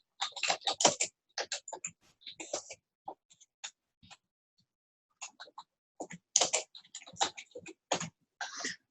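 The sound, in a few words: typing on a computer keyboard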